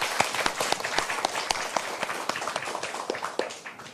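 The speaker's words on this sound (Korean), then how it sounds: "예, 박수 부탁드리겠습니다." Audience applause at a live Korean public reading event, moderate clapping from a small crowd with distinct individual hand claps standing out, steady throughout.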